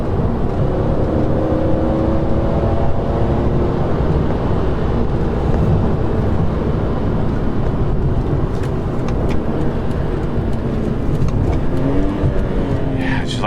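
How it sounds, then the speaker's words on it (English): A BMW E46 M3 engine drones loudly from inside the moving car, its revs climbing and falling in smooth sweeps under constant road and wind roar, with voices heard in the cabin. "you gotta really dig into the throttle to get it to rev match"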